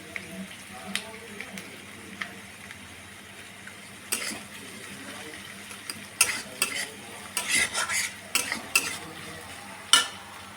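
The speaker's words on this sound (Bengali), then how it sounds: "এবার এটা ভাজতে থাকি।" Onion with chopped ginger fries in a pan, a soft steady sizzle broken by clinks and scrapes of a spoon stirring, growing busier toward the end.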